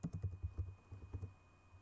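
Fingers type on a computer keyboard in quick, uneven clusters of soft clicks, close and fairly quiet, trailing off toward the end with no talk.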